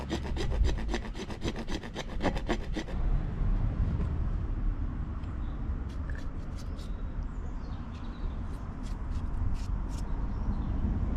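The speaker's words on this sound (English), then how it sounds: "So it's the old-fashioned way with a rasp." A hand rasp chamfers the end of a pipe for underfloor heating pipework, with quick rhythmic scraping strokes at first, then a steady, close rubbing file sound while faint birds chirp in the background.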